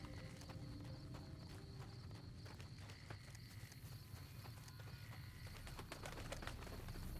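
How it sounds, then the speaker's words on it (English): Bird calls and clip-clop footsteps ring out over a steady low rumble of wasteland ambience in the video game Fallout: New Vegas, with sharp, repeated transients scattered throughout and no talking. "Is it literally a bird?"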